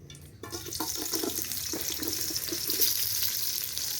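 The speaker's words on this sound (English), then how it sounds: "We fry until golden brown." Onions frying in oil in a pan during rural Kenyan village cooking, a soft continuous sizzle with light crackles, preceded by a brief clunk at the start, moderately quiet and close with no talking.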